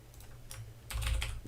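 Keys on a computer keyboard tap out a short answer, a few quick close clicks followed by a louder burst of typing.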